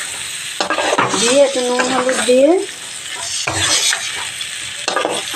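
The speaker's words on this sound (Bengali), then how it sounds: "পেঁয়াজ আর টমেটোটা একটু ভাজা হয়ে যাওয়ার পর দেখো আমি ফুলকপি আলুটাও দিয়ে দিয়েছি" Cauliflower and potato fry with onion and tomato in a pan, giving a loud, close sizzle broken by scraping stirs. Someone speaks briefly over the cooking.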